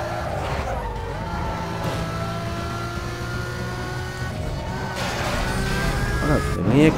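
A Lamborghini engine drones and revs steadily in Need for Speed Most Wanted, its pitch rising as it accelerates, with tire skidding near the end, alongside a voice talking.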